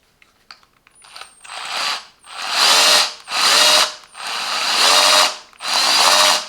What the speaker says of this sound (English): I can hear the pump.